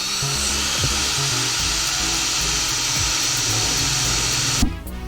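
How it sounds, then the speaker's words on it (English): A power drill bores a series of holes through a van's metal body to cut an opening for a Chinese diesel heater, its steady loud whine running continuously before stopping abruptly near the end. "we're just drilling holes until we have one big hole that we can use"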